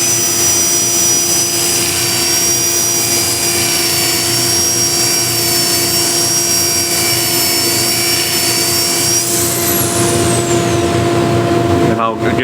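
A wood lathe spins steadily while a walnut or cherry plate is sanded, a loud continuous whine with droning tones that drops away near the end.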